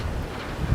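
Strong wind from a hurricane feeder band gusts at Boynton Beach, a dense, loud rush buffeting the microphone with a low thump near the end, no voices.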